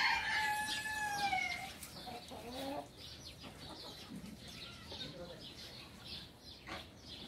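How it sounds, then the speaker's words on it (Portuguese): A rooster crows loudly and close at the start, followed by scattered hen clucks and other fowl in a rustic farm yard that also keeps geese, ducks and turkeys, with steady background noise. "tem de tudo aqui, tem ganso, tem pato, tem peru, tem galo, galinha"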